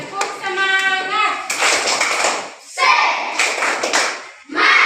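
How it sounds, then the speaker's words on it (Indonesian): A class of children performs a rhythmic clapping chant, with quick bursts of claps in a classroom setting, mixed with young voices chanting along and a whistle-like tonal sweep at the start. "Tepuk semangat dulu."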